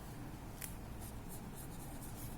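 Pen writing on paper during a maths lesson, faint scratchy strokes in short bursts over a steady background hiss, with no voice.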